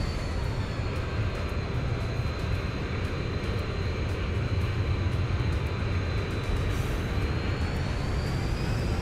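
A Boeing 737-800 in the X-Plane 11 flight simulator rolls out after a firm landing, a loud, steady engine roar and broadband rumble with a faint whine, no voices.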